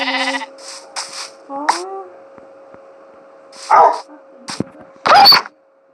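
A Minecraft sheep gives a short, loud bleat, followed by sharp game dog barks and other brief in-game sounds over a steady background tone.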